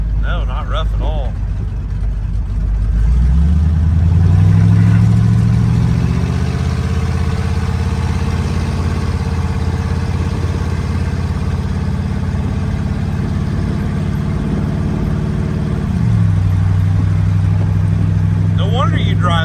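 A hot rod with a Ford transmission drives and then idles, its engine rumbling low and steady, pitch rising as it pulls away and dropping back near the end, loud and close from inside with people talking over it.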